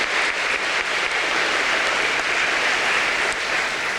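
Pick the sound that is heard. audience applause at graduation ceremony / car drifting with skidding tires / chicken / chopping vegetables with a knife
audience applause at graduation ceremony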